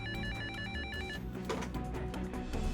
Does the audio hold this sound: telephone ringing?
yes